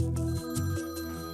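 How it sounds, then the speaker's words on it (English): A mobile phone ringtone goes off while people dig through a pile of old items, a steady electronic tone with a melodic pattern changing every few tenths of a second, fairly loud and alone. "As we're digging around, my phone goes off"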